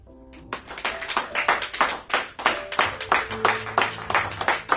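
A church congregation claps in a quick, uneven rhythm of sharp hand claps, fairly close and loud, with faint voices mixed in.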